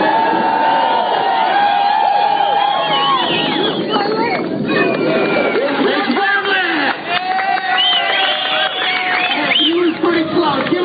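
Crowd noise at a BMX jump contest in Huntington Beach, a loud continuous roar of cheering and babble with whistles and shouts, close and steady throughout.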